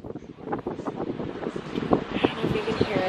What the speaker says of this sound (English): the wind is so crazy here. It sounds like the tundra.